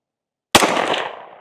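A single sharp pistol shot from an Echelon 4.0C or Glock 19, cracking loudly out of silence and trailing off in a short outdoor echo.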